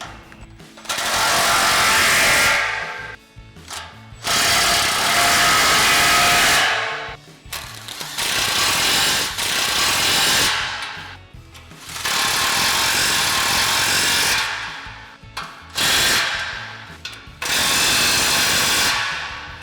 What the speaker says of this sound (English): So we'll grab our 15 mil socket on our impact.